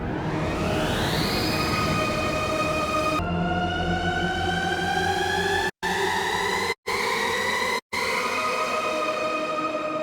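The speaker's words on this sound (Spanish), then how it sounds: "toqué una nota a lo largo de toda la canción, la misma nota, y fui cambiando y jugando con la rueda de pitch y de modulación solamente" A single sustained note from the Arturia Augmented Strings synth plugin, its pitch bending upward and gliding as the pitch and modulation wheels are moved, bright and harmonic, briefly cut to silence three times near the end.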